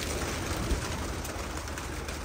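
Birds cooing like pigeons over a steady, hissy background, continuous and fairly close.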